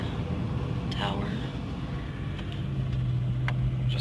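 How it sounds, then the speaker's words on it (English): A farm tractor drives along ahead on a rural farm property, a low steady engine rumble with a mid-frequency drone, while people talk in the foreground. "Just following the tractor."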